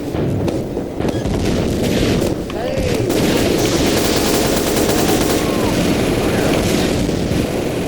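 Minigun spinning and firing in the Team Fortress 2 video game, a loud dense continuous rattle of rapid gunfire with booms and explosions mixed in throughout the battle.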